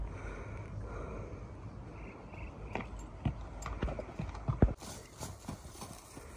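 Horses walk on hard ground, their hooves clip-clopping in an uneven series of sharp knocks that grow louder toward the middle, with no talk over them.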